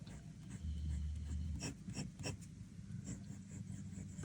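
Fountain pen inked with Waterman Intense Black scratching across paper, a quiet, close series of short scritchy strokes with a few sharper taps, faint and intimate with no talk.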